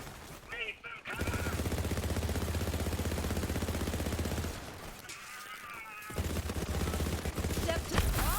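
Borderlands 3 legendary rifle laying down suppressing fire, a long unbroken rapid automatic burst, a short pause, then a second burst, with game sound effects around it.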